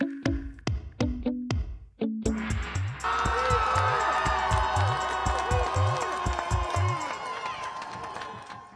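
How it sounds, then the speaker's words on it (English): Crowd cheering outdoors at George Floyd's memorial as the guilty verdict against former police officer Derek Chauvin is read, with excited shouts after a few sharp opening bursts swelling into sustained, loud, dense cheering and yelling that fades toward the end. "Crowds cheer outside George Floyd's memorial as the verdict is read"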